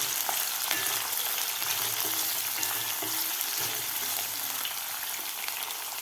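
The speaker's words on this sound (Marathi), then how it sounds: "आता कांदा आपल्याला 2 मिनिट चांगला परतून घ्यायचा आहे।" Chopped onion with a bay leaf fries in hot oil, a continuous close sizzle and crackle with occasional soft stirring scrapes, no voices.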